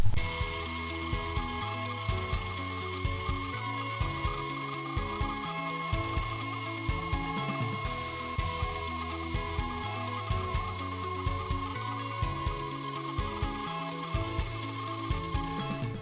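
An Ellie longarm quilting machine on a Halo table stitches a quilt panel, a steady motor drone with a regular, rapid mechanical pulse running evenly throughout, with no talk.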